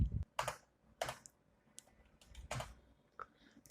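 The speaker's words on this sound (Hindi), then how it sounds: "यहाँ पर बिल ऐड करने के लिए इंसर्ट बटन प्रेस करते हैं।" Several separate computer keyboard key presses while entering a bill in PharmaCare pharmacy retail software, sharp close clicks spaced irregularly, with quiet pauses between them and no talking.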